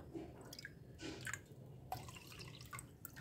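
Water, two and a half cups in all, goes onto rinsed, drained millet to soak, heard as a quiet run of splashes and drips with a few brighter splatters.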